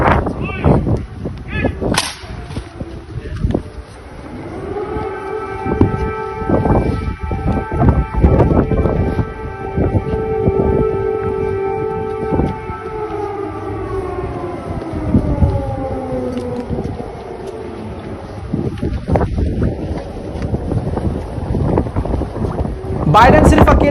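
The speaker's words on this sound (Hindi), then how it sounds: "जबकि इमरजेंसी सायरन बज रहा है" An air-raid siren in Kyiv, Ukraine, wails in a long rising and falling tone heard outdoors amid gusty wind and crowd noise, with sharp clicks and bangs around it.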